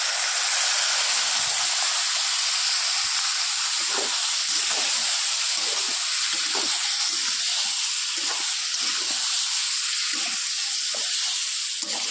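A pan of three kinds of vegetables with chili powder hisses and sizzles loudly as water hits it, a continuous steamy roar broken by regular stirring scrapes.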